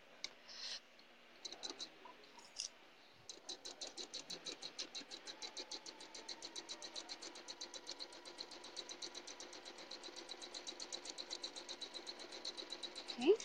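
A sewing machine fitted with a quarter-inch foot stitches quilt fabric, a steady rapid run of needle clicks after a few short starts, fairly close and moderately quiet.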